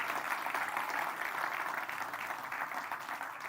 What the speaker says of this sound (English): If you are 20 or over, can you applaud, please?